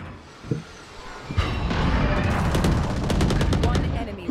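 Rapid bursts of video game gunfire, loud and dense, crackling in quick repeated shots from about 1.4 seconds on, with an earlier single thump and some voices in the background.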